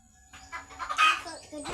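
Chickens clucking in a nearby coop in short, squawking bursts, loud and close.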